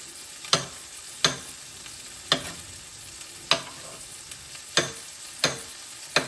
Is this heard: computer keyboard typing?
no